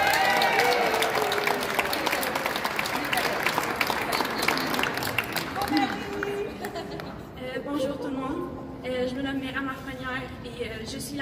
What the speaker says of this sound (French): sous une main d'applaudissements, encore une fois, je vous présente Myriam Lafrenière